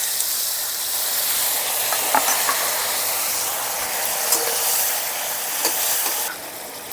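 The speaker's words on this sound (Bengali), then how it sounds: "এখন একটু জল দিয়ে দিচ্ছি।" Water poured into a hot pan of frying cumin, coriander and dried red chilli paste for a shol fish and potato curry, giving a steady, fairly loud sizzling hiss that carries on for several seconds with small crackles and no talking.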